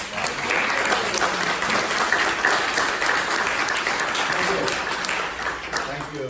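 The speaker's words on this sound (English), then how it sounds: "why don't we welcome him with a warm round of applause" A church audience gives a warm welcome to Father Alexei at an interfaith talk, a full, steady round of applause filling the room from start to finish.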